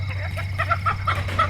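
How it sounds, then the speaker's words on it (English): Third-generation Egger cockerels cluck in a rapid run of short, close calls over a steady low hum in a backyard coop. "These are my 3rd generation Egger cockerels."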